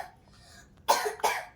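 Two sharp coughs in quick succession, close and fairly loud, after a brief quiet moment.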